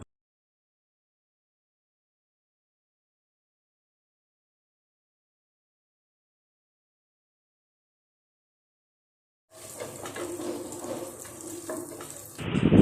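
After long silence, chicken pieces begin frying in ghee in a pan, a close, steady sizzle lasting a few seconds and rising sharply at the very end.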